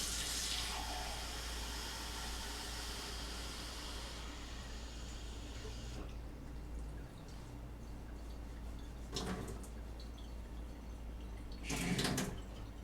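Warm tap water runs from a kitchen faucet into a measuring cup for Montreal-style bagel dough, a steady close hiss of flowing water with brief louder splashes as the stream shifts.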